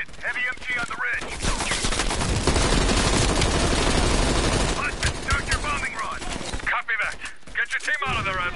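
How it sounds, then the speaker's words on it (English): Heavy machine gun fire in the Call of Duty Cold War campaign: a long, loud, dense burst of rapid shots that rises and falls, with voices talking over the gunfire near the start and end. "Heavy MG on the ridge."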